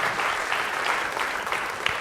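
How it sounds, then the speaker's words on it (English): Steady audience applause at an academic science talk welcoming a professor as final speaker, dense and sustained clapping from a room full of people throughout, with no voices standing out. "a big round of applause"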